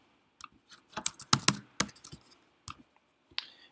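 Irregular keyboard typing, with quick clusters of crisp key clicks separated by short pauses, close and fairly quiet.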